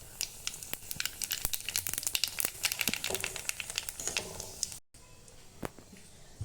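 A dried red chili and a little black cumin fry in hot oil, giving a dense, crackling sizzle with many sharp pops. It is close and loud, then drops to a quieter, sparser spitting near the end, with no speech.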